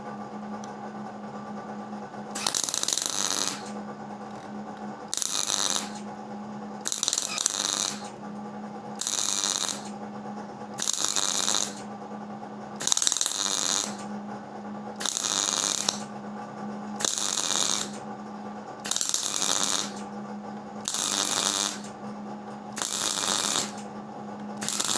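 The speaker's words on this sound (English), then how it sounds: "we're going to do it with spot welding first" A MIG welder spot welding in a garage, with about a dozen short bursts of harsh crackling sizzle, each lasting a second or so, separated by brief pauses over a steady low machine hum.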